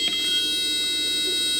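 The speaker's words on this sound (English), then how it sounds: "A horn to amplify the piezoelectric sounder. Let's just plug that in and make that beautiful square wave." A piezoelectric sounder fitted with an amplifying horn gives off a loud, steady, harsh square-wave tone, piercing and continuous and rich in stacked harmonics, heard alone with no voices.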